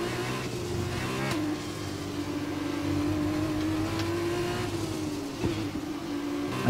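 Loud, close engine drone of a Formula 2 race car in F1 2021, revs rising and dipping through gear changes, with brief clicks and no talking.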